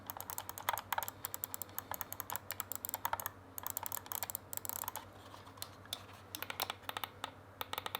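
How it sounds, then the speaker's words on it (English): Rapid bursts of crisp, light clicks from the buttons of a pro gaming mouse, tapped in quick irregular clusters with brief pauses between, close and fairly quiet over a low steady hum. "in terms of how the mouse click sounds, let's have a listen."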